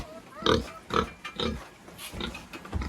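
Several short, low pig grunts come in quick succession, close to the microphone, with faint rustling between them.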